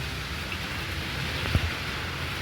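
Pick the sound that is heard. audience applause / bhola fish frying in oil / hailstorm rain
hailstorm rain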